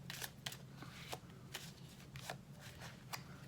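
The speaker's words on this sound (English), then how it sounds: "Shuffle out the rest a couple times." Playing cards riffle and snap through a shuffle, a quick series of crisp bursts close to the mic, quiet overall with nobody speaking.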